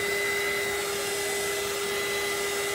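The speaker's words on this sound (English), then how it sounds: "I'm just drying it while you guys look at it." A hair dryer runs steadily to dry paint on a canvas, a constant close whirring drone with a thin whine over it that holds at one level throughout, with no talking.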